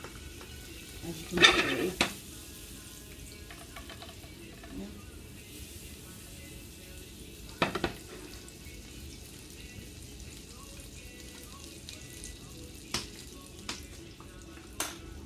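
Butter sizzles faintly in a frying pan while pancakes are being made, a low steady hiss with a few sharp clinks of utensils at intervals, and a voice speaks briefly over it.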